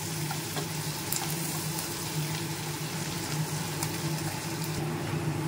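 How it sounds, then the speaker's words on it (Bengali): Fish oil fries with onion in a pan, a steady, even sizzle that holds close and constant throughout with a low background hum and no talk. "মাছের তেলটা আমি পেঁয়াজ দিয়ে ভাজছি"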